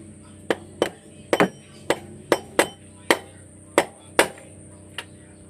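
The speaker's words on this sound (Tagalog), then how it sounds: "Gamit lang tayo ng rubber mallet." Repeated sharp knocks of a rubber mallet striking a metal part on a Toyota 1KD/2KD D4D diesel engine during a timing belt change, about ten blows at uneven intervals, close up over a steady mechanical hum.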